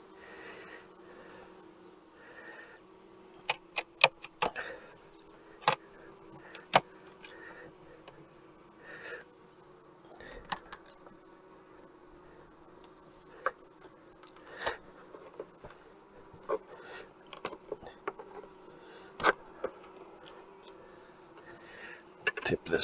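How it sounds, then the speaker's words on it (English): Continuous honey bee buzzing with a high steady whine, bees humming around a hive, with scattered clicks and soft handling noises throughout. "I hear a lot of bees"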